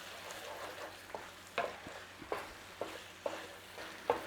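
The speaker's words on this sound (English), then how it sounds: "So cook it down, let all those flavours intensify in that meat, and we'll have a perfect pie filling." Beef mince pie filling in gravy cooks down in a pot, a low bubbling simmer broken by a regular series of scraping, clacking stirs roughly every half second to second.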